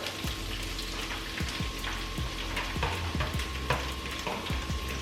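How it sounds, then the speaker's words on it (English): Carrots and onions sizzle steadily in a pot as they are sautéed for beef stew, a continuous soft frying crackle with scattered pops, heard alone. "Saute those up just like that."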